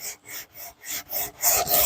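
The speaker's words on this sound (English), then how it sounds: "Took a lot of sanding." Rhythmic sanding of wood, repeated rasping back-and-forth strokes up close, growing louder and more continuous toward the end.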